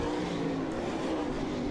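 Late model race cars roar around a Southern Ontario speedway oval during the closing laps of the feature, a dense, steady engine drone at close range.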